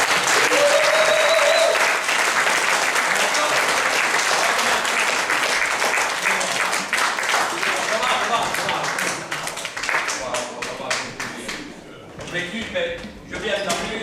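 Loud, sustained audience applause fills a comedy club in Rixensart as a stand-up comedian is welcomed on stage, thinning out toward the end with scattered claps.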